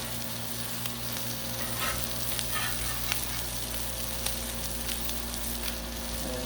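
An egg fries on a Blackstone griddle, a steady close crackling sizzle with small pops throughout, no talk over it.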